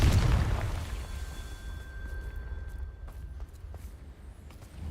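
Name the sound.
Confringo spell explosion in a wizarding video game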